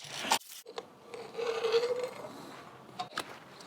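A fuel filter housing is unscrewed from an engine's fuel line with soft, close rasping and rubbing twists, a few scrapes and clicks in a quiet setting.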